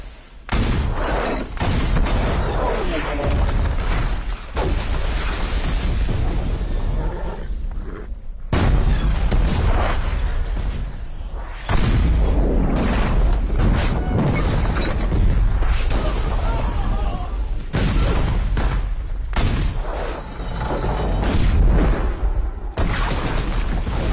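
Cannons pound a fort in a Maratha assault on Delhi, a continuous barrage of deep booms and gunfire with no clear break.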